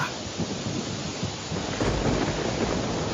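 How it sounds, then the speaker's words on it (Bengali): Steady heavy rain roaring with low rumbles of thunder underneath, a dense continuous wash of noise. "আহা, কি বৃষ্টি!"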